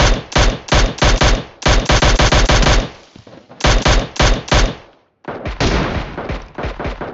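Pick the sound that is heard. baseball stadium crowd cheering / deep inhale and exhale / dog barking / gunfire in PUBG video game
gunfire in PUBG video game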